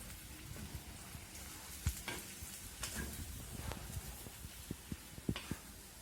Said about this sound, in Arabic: من بعد ما كتسخن الزيت كنضيفوا البصله والربيع والثومه اللي قطعناها. بطبيعه الحال كنحركوهم شويه بشويه.